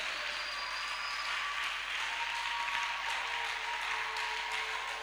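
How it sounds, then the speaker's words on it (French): Continuous dense applause and cheering from an audience at a youth camp worship gathering, loud and sustained throughout with faint voices and tones rising above the clapping. "Acclame très fort le Seigneur."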